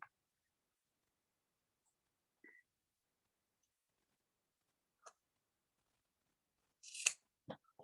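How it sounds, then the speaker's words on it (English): Scissors snip the ends of leather strips on a handmade moccasin, a few sparse, quiet cuts spread apart in near silence, with a small cluster of snips near the end. "We are gonna take our scissors and we're gonna just trim them down to where you had stopped sewing"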